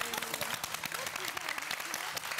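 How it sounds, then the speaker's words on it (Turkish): An audience applauds a poem reading, a steady wash of clapping throughout with a voice speaking over it. "Yani bu şiirin nesini alkışlıyorsunuz?"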